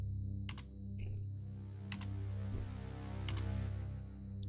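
Clacky computer keyboard keystrokes typed into a lab terminal in a horror adventure game, a few separate taps over a steady low electronic hum with no voices.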